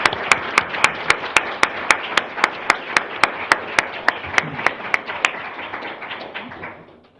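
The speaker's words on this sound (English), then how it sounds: "I hope you will join me in thanking them in applause for their presentations." Audience applause after a panel presentation at an academic event. Sharp, evenly spaced claps sit close by over a softer wash of clapping from the room, and the sound tapers away toward the end.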